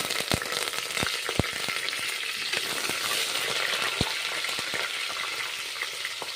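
Green chillies and coriander frying in a pan for kushka rice, a continuous close sizzle and crackle with a few sharp pops and taps, no voices.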